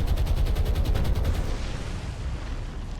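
Shell hits explode on a troop ship during a War on the Sea naval battle, a rapid loud burst of repeated booming impacts that rumbles on and fades into a low roar.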